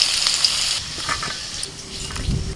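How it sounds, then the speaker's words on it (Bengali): Potato pieces frying in hot oil give a steady, close sizzling hiss that eases slightly toward the end, with a soft stir or clatter near the close. "আলুগুলোকে একটু লাল করে ভেজে তুলে নিচ্ছি"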